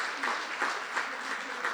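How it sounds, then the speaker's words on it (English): Applause fills a hall at APU's Veterans Day appreciation luncheon, a continuous patter of many clapping hands heard from moderate distance with no voices over it. "yes, you can give him a applause."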